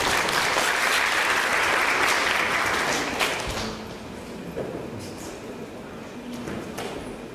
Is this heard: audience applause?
yes